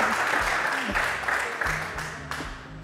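Studio audience applause on a TV cooking show, a dense, continuous clapping that holds steady and fades slightly, with a voice speaking over it.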